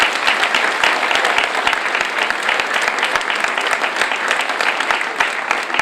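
An audience at a New Year's greetings ceremony claps steadily, a dense, loud wash of applause that holds evenly throughout.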